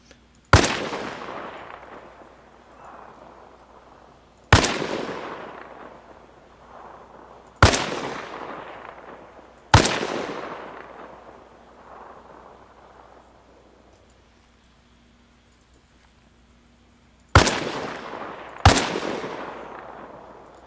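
Six sharp SVD sniper rifle shots ring out in Arma Reforger at the weapon's maximum fire rate, each loud crack trailing into a long rolling echo, spaced two to three seconds apart with a pause before the final pair.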